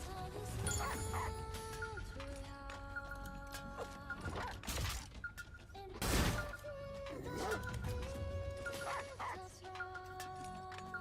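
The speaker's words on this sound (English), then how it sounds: "The dog's here." Dog barking in the video game Stellar Blade, several sharp barks and yips scattered through the passage amid game music tones and ambient effects, with a voice talking at times.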